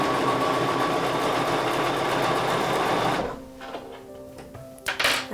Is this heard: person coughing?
no